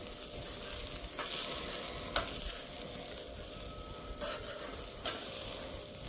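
Riblets sizzle and fry on an Even Embers suitcase grill with small flare-ups, giving a steady close crackle and hiss with a few sharper pops and shifts as the meat is moved, and no talking.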